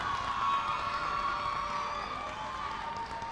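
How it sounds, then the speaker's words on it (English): Crowd at an FMU homecoming basketball game cheering and applauding, a steady wash of clapping and shouts that stays loud and even throughout, with a faint tonal ring underneath. "One more big round of applause for the FMU 2023 Homecoming Queen, Miss Jayla Fryson."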